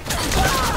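Video game gunfire in Metal Gear Online 3 online multiplayer, a short, loud, continuous burst of rapid shots that fills the moment, with a little voice mixed in underneath.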